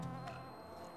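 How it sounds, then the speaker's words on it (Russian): A bee buzzes faintly in the pixel sandbox game WorldBox, a brief quiet insect drone. "Это пчела."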